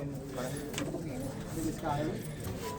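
Pigeons cooing in a loft holding around 295 birds, a steady murmur of soft overlapping coos close by, with people talking over them throughout.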